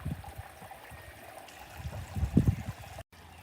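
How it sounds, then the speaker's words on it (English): Water from a garden pond waterfall flows and trickles softly, a faint, continuous splashing with a slight swell in the middle, recorded outdoors without any talking. "waterfall is flowing quite nice"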